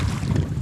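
Steady gusting cold north wind in eastern Finland buffets the microphone with a low, rough rumble, brief and continuous, with no voices.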